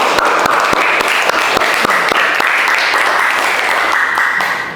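Primary school students in a classroom applaud together, loud dense clapping with sharp individual claps up front, faint voices mixed in, tapering at the end.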